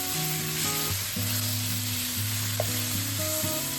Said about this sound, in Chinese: 尽量让每块五花肉2面都煎至金黄